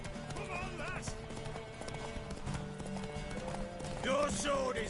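Horse hooves clip-clopping at a run in The Witcher video game, a steady galloping rhythm under game dialogue and voices, with a neigh near the end.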